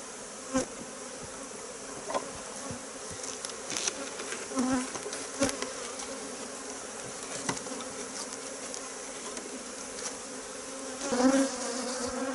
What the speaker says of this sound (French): il va falloir que je rebalaye à nouveau chaque cadre pour chasser les abeilles